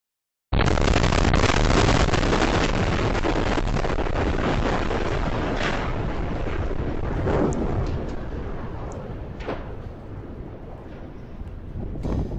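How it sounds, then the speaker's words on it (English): A UPS cargo plane crash near Louisville Airport sets off a massive explosion, a sudden loud roaring blast that rumbles on and slowly fades, heard from a distant security camera with no talk. "Security camera footage showing the moments a UPS plane crashed captured the massive explosion triggered near Louisville Airport on Tuesday"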